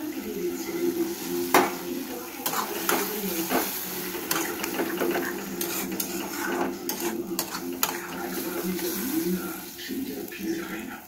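Eggs frying in a pan for a tadka dish, a steady sizzle with scattered clinks and scrapes of a utensil against the pan.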